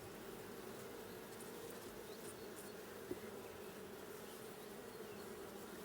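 A steady, low buzzing hum of many honey bees around a hive, continuous and fairly faint, with no voices.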